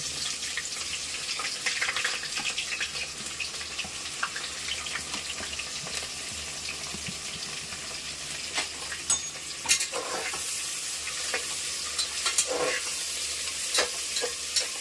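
Onions frying in hot oil for an Odia-style mutton curry, a steady close sizzle with scraping stirs and occasional clinks running throughout.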